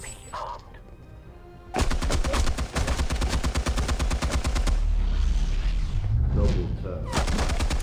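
Rapid bursts of automatic gunfire from a Batman video game, loud and sustained for several seconds after a brief quieter stretch, with short pauses and some overlapping sound effects.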